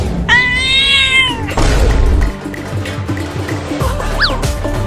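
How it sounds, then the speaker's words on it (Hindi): A cat gives a loud, drawn-out meow close by, followed by thuds and shuffling and a shorter, fainter meow near the end. "अरे वाह, वो रही एक बिल्ली।"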